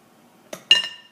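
A utensil scraping the last of a chocolate meringue cookie mixture, making two quick clinks against a dish, the second louder and ringing briefly.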